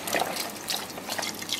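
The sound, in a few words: chicken broth or bone broth being poured in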